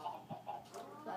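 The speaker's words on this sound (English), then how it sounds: "That's my chickens." Soft, short clucking calls from Minecraft chickens, a few low bursts in quick succession, fairly quiet.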